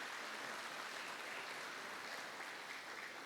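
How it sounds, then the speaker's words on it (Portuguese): Steady applause from a church congregation, a dense even wash of many hands clapping together, faint and distant throughout. "Dê um aplauso ao Senhor pela vida dele"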